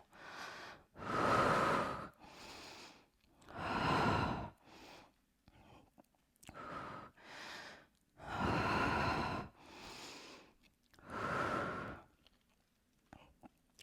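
Heavy, audible breaths from someone doing a low-impact cardio pilates workout come in regular cycles of inhale and exhale, close and clear. Short pauses separate them, and no speech is heard.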